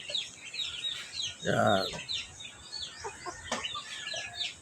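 Backyard chickens cluck and chirp steadily nearby at feeding time, with a louder squawk partway through and someone speaking briefly over them.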